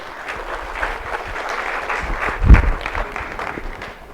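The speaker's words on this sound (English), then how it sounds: "Give yourselves a round of applause." A summit audience of young leaders claps for themselves, a moderate, steady patter of applause with one louder thump partway through.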